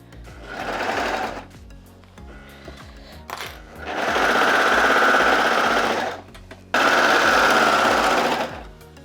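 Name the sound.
overlocker sewing dress seam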